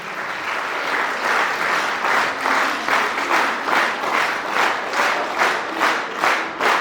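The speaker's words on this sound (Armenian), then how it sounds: "Արի ջերմ և բարձր ծափարում ենք" An audience at a concert applauds loudly and continuously, claps swelling in rhythmic pulses near the end, with scattered cheers inside the dense crowd noise.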